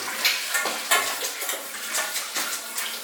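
Dishes and pots being washed under running water, with repeated clattering knocks of utensils over a steady splashing stream, close and fairly loud with no voices.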